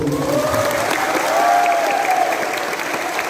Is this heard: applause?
yes